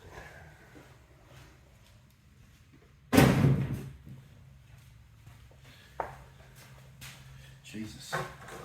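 A drawer is pulled open in one loud burst, with a few fainter knocks and shuffles after it against a quiet room background.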